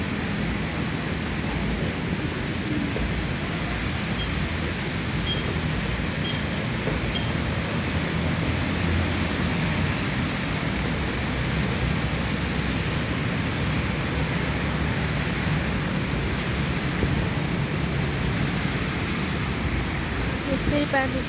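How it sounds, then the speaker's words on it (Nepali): Steady rain falls outdoors in Kathmandu, making a dense, even hiss that continues unbroken for the whole stretch with no clear breaks. "यस्तै पानी परिरहेको छ"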